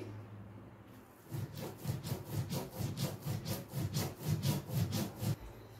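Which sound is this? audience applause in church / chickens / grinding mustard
grinding mustard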